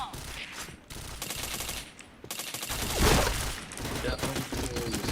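Rapid bursts of gunfire in the online shooter game Point Blank rattle nearly continuously, loud and dense, with a short lull before another heavy volley.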